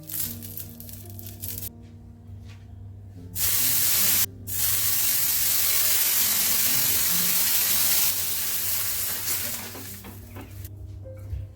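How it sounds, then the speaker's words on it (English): Water sprinkled onto a hot, oil-smeared cast iron tawa bursts into a loud, sustained hiss that swells for several seconds, with sharper sizzling spurts before and after. "Heat the tawa, smear few drops of oil, sprinkle water and just wipe"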